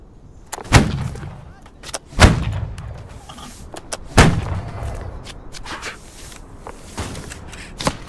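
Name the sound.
gunfire from a video game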